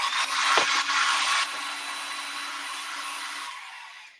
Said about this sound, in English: a faster way would be using a little blow dryer.